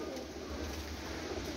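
Pigeons coo steadily over a dense, noisy background in a pigeon loft, the calls low and continuous, with no talk.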